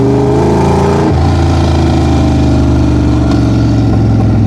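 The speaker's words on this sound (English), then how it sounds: "A couple crackles and pops from that exhaust." A 1965 Shelby Cobra 427 replica's engine and exhaust rumble loud and close, a deep steady growl that drops in pitch about a second in as if easing off, then holds a rough, throbbing idle-like note with no talk.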